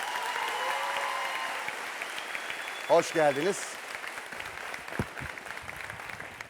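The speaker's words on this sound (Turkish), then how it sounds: "Orkestrasına önce büyük bir alkış alalım efendim" A studio audience on the Beyaz Show applauds the orchestra, a thick steady roar of many clapping hands that fades as a host speaks briefly over it, followed by a few scattered claps.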